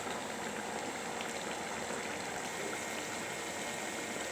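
Vegetable curry of pumpkin and sidol simmering in a pot with a cup of water added, a steady, dense bubbling hiss running continuously and evenly throughout, close and fairly loud, with no voices.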